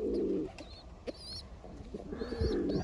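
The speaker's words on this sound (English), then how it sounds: "I love baby pigeons." Baby pigeons coo softly in a garden, low throaty calls rising and falling over about three seconds, with a few thin chirps from other birds above them, close and fairly steady, no talk.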